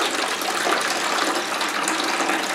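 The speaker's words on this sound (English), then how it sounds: "I'm going to switch the pump on" A water pump feeds a hose filling buckets in a hydroponic deep water culture greenhouse setup, producing a loud, steady gushing rush of water that continues unbroken throughout.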